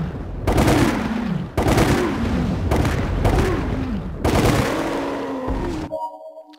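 Submachine gun fire in Resident Evil: The Umbrella Chronicles, loud sustained bursts in four or five long runs with brief gaps, ending abruptly with a short quiet tail of game ambience.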